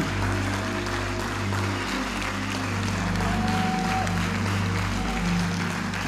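A church congregation applauding to acclaim the Lord, a steady, dense wash of clapping that carries on evenly throughout without a break.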